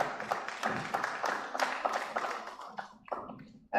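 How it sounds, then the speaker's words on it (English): After a university lecture on market research, a dense patter of audience applause fills the room, moderately loud and uneven, thinning out toward the end. "Tremendous applause."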